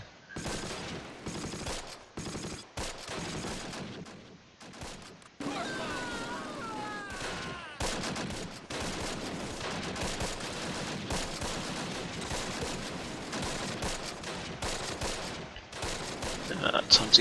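MG42 machine gun fire in the Close Combat: Last Stand Arnhem war game, dense bursts of rapid gunfire rattling almost continuously with short gaps, mixed with other battle noise.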